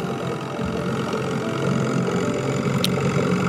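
A small fishing boat's motor runs at a steady idle on the water in Norway, a continuous close engine hum with no talking.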